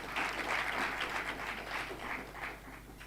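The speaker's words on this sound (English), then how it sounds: "Big round of applause." Guests at a magistrates' and judges' association anniversary gathering giving a round of applause, heard faint and distant as a soft, even patter of clapping.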